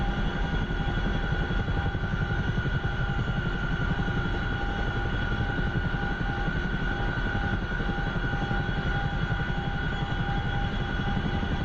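A Chinook twin-rotor helicopter in the DCS combat flight simulator roars steadily and loudly throughout, a dense continuous engine and rotor drone with no breaks.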